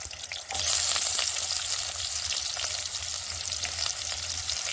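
Onions frying in a kadai, a steady loud sizzle starting after a brief quieter moment and holding bright and continuous close by, with no voices.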